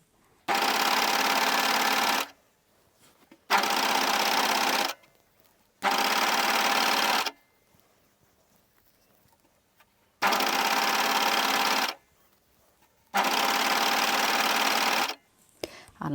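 A new cover stitch sewing machine stitching a fabric top under repair, running in five loud, steady bursts of rapid mechanical whirring separated by short quiet pauses.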